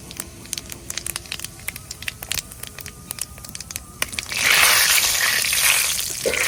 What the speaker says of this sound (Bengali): তেল গরম হয়ে গেছে, দিয়ে দেবো ফোড়নে দেবো শুধু মৌরি